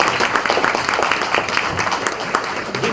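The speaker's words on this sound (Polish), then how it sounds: "proszę o przywitanie wielkimi oklaskami" Loud, sustained applause from an audience at a debate event greets a guest lecturer, many hands clapping densely and evenly for the whole stretch.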